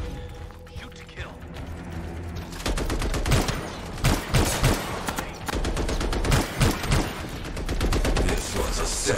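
Heavy gunfire in an Anthem video game cutscene, starting with a quieter lead-in and then bursting into loud, dense volleys of rapid shots and impacts that continue almost without pause.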